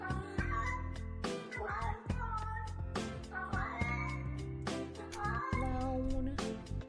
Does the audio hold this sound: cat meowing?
yes